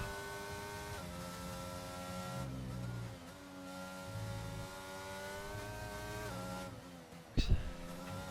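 Race car engine in a sim racing league game on the Austria circuit, a steady high droning whine with shifting pitch as it accelerates, gear changes audible and a brief sharp thump near the end.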